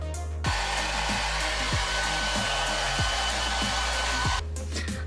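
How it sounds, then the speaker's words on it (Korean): A hair dryer blows steadily and loudly on hair with extensions, a constant airy whoosh with a low hum, briefly cutting in after a quiet start and running without pause until stopping near the end. "다시 드라이기 시작할게요."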